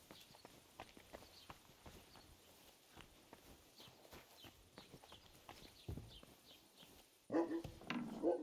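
A dog barks in the medieval video game Kingdom Come: Deliverance 2, a few loud barks near the end after a stretch of quiet horse hooves clip-clopping and footsteps.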